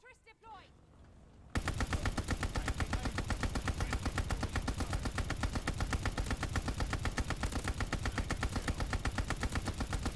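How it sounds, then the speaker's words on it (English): A ball turret machine gun in Call of Duty Vanguard fires a loud, continuous rapid burst after a short quiet lead-in, hammering on for several seconds. "we're gonna use the ball turret now"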